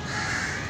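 Crows caw in a street, one short, harsh call that carries clearly over a little background noise.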